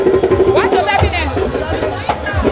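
An outdoor crowd waits for the president's arrival, with steady murmuring chatter and overlapping voices nearby and a clear voice rising above the babble.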